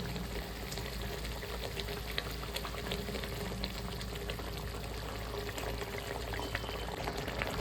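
Fried chapila fish going into a pot of boiling curry, with a steady broadband sizzle and bubbling throughout and faint scattered clinks, fairly close and without talk.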